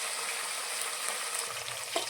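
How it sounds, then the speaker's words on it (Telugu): About 200 grams of green chillies cook on a low flame in a pan for a Shimla mirchi masala curry, giving a steady, even sizzle with a faint stir or clink near the end. "లో ఫ్లేమ్ మీద పచ్చిమిర్చిని మంచిగా ఉడకనిద్దాం."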